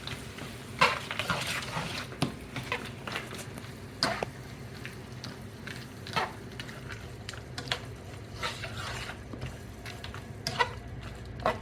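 Shrimp and rice mixture stirred in a pot, a spoon scraping and clinking against the metal in irregular strokes over a faint simmering sizzle, close and fairly quiet with no talking.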